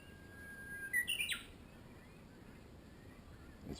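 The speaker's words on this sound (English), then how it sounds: "I'm not sure what they really are, those birds." Birds chirp outdoors in Japan: a quick burst of bright high tweets near the start, then fading into quiet background rumble, with one faint call at the very end.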